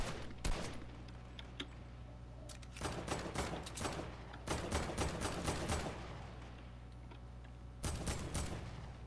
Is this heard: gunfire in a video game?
yes